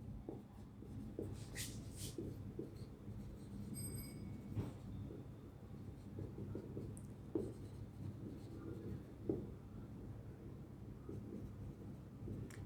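Chalk or a marker taps and scratches across a classroom board in faint, irregular strokes under a low, steady background rumble.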